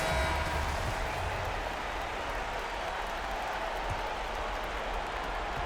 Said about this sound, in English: with the break in play, the crowd standing to cheer his excellence